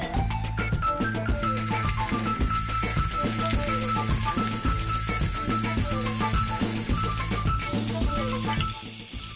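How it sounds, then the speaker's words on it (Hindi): Meat sizzles loudly in a pan with ginger garlic paste while nihari gosht cooks, a dense, steady frying hiss that holds for the whole stretch without pause. "हल्का सा भूनते हैं, उसके बाद इसमें गोश्त शामिल कर देते हैं।"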